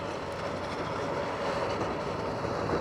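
A Seeker FOD sweeper with a 15-foot sweeping width approaches along an airfield runway, a steady broad rumbling roar at moderate distance with a faint rattling undertone, no talk.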